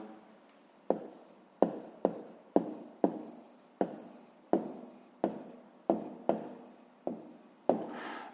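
Pen on paper writing out a fifth-grade math answer, about a dozen short scratchy strokes in an uneven rhythm, close and alone without speech.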